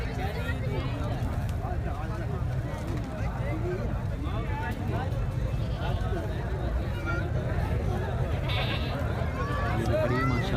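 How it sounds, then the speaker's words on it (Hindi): Goats bleating amid a busy outdoor goat market at Memon Goth, with a dense, steady crowd din and people talking throughout. "इस तरह भी खड़ी है, शौक वाली बकरी है माशाल्लाह।"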